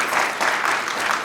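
An audience claps after a theatre performance at a national drama festival, producing dense, steady applause that holds evenly for the whole stretch with no talking.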